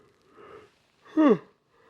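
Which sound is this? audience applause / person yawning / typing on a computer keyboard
person yawning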